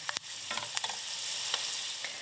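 Leek rootlets frying in oil in a saucepan, a bright continuous sizzle with scattered crackles and a few sharp spatter pops near the start, close and fairly loud, with no talking.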